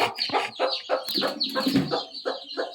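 A hen settled with her chicks gives a run of close, repeated clucks in short broken bursts, fairly loud, with no talk.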